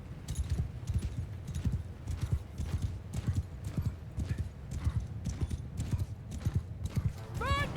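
Horses in the video game Mount & Blade II Bannerlord gallop close by, with rapid rhythmic hoofbeats throughout, a whinny near the end, and a voice talking faintly underneath.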